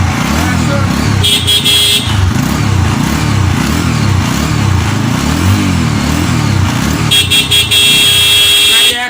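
A motorcycle engine idles and revs nearby with a throbbing, pulsing rumble, while people talk over it and brief high beeps sound at times.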